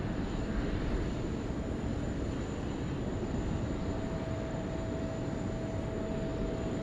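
A plane arriving on runway 16 right at Sydney Airport, heard as a steady, loud broadband engine roar that holds level throughout, with a faint whine on top and no voices.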